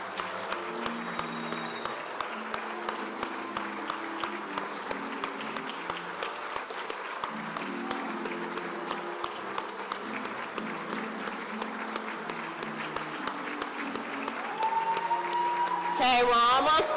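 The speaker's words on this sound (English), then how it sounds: "Let's keep the applause going." Sustained audience applause at a medical school white coat ceremony, steady dense clapping from a large crowd over the whole stretch, swelling louder near the end, with a little crowd murmur beneath.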